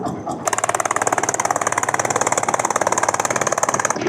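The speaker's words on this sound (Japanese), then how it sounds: "さっきからエンジンが何度か止まりかけて、スピードもめちゃくちゃ遅くなってきました。" Boat engine on Inle Lake, Myanmar, running short of power and nearly stalling, a loud close rapid pulsing chug with a steady even rhythm after a brief quieter start.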